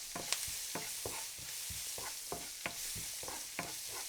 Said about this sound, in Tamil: அது நல்லா வதங்கினதுக்கப்புறமா வெங்காயம் அதை வதக்கலாம்.